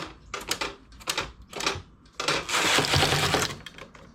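Knitting machine working a seafoam stitch variation, the carriage rattling across in short mechanical bursts, then one longer clattering pass, close and moderately loud.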